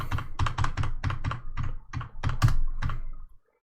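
Quick typing on a computer keyboard, a close, crisp run of about a dozen key clacks in an uneven rhythm, ending abruptly into silence.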